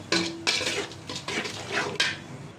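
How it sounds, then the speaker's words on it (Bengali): Polao rice and mung and chickpea lentils are tipped into a cooking pot, giving several close, loud clattering and rattling bursts of grains and a metal utensil against the pot, with no voices. "এই যে পোলার চাল আর ডালগুলি দিয়ে দিলাম"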